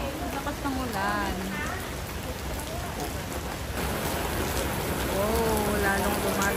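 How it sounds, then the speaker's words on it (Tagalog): Heavy rain pours down steadily near Rama X Bridge in Bangkok, a dense hiss of drops on surfaces, with voices talking faintly underneath. "Kaso, lakas ng ulan."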